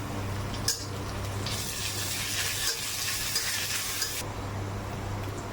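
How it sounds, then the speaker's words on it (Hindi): Onions and ginger garlic paste fry in a pan for ghugni, a steady soft sizzle with a louder hissing burst partway through as stirring goes on, close and fairly quiet with no talking. "अब लहसुन अदरक का पेस्ट"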